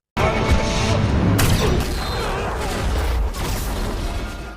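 A loud, booming blast with crashing debris in The A-Team film opens a dense, sustained roar of cinematic action noise that rumbles on for several seconds.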